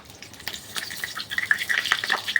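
Whole capsicums frying in hot oil in a pan, a brief close crackle and spatter of sizzling that grows busier toward the end.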